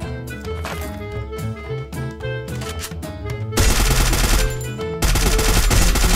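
Gunfire in the Free Fire battle-royale game: rapid automatic bursts over busy game audio, turning into a loud sustained barrage in the second half, with a brief break near the end.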